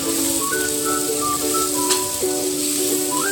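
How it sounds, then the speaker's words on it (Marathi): Onion and capsicum sauté in hot oil with a close, steady sizzle, while faint melodic tones play quietly in the background. "त्यामध्ये घालणार आहोत आपण शिमला मिरची ती सुद्धा तेलावर व्यवस्थित एक दोन तीन मिनटं व्यवस्थित परतून घ्यायची"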